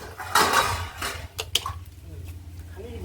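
Dishes, pots and utensils clatter and clink during washing in a home, a few sharp knocks standing out close by while a voice talks over them.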